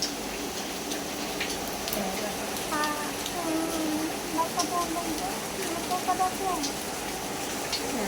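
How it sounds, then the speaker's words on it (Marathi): Heavy rain falls in a steady, even hiss around a home where water is pooling in pots, with a few faint tonal sounds and possible distant voices mixed in. "पाऊस चालू आहे"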